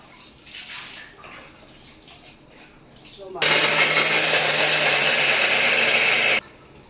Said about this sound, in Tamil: தேங்காயும் சோம்பு அரைச்சிக்கிடுவோம் குழம்புக்கு